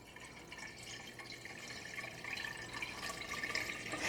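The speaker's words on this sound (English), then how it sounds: "I'm gonna add in my coconut water" Coconut water with small coconut chunks pours into a mason jar in a soft, continuous trickle and splash that grows slightly louder as the jar fills.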